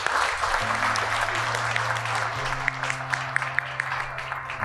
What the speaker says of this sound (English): Please give them a big round of applause again.